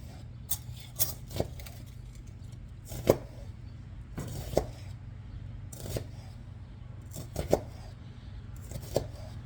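A knife cutting an onion on a board, a series of sharp, quiet chopping taps at an uneven pace, close by in a kitchen.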